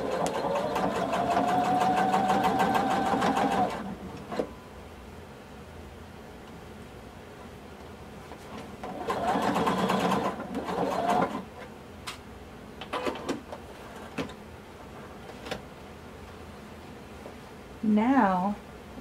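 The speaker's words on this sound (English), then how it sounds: "And we're going to sew through the entire thickness." A sewing machine stitches through the full thickness of a blazer in two loud runs of a few seconds each. Quieter handling sounds fall between the runs, and a brief voice comes at the end.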